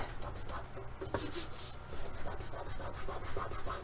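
Candle wax residue is rubbed off the casing of a Sony TA 4650 integrated amplifier, giving close, quiet, uneven scrubbing and squeaky friction strokes in short bursts.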